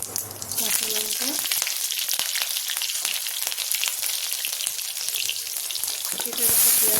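A pinch of hing with dried red and green chillies hitting hot oil, a bright crackling sizzle that runs steadily throughout, loud and close.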